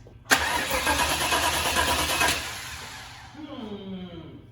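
A new crate motor in an air-bagged 1972 Chevy Suburban cranks and fires up abruptly, roaring loudly for about two seconds before dropping to a lower idle, with a voice talking over the engine near the end.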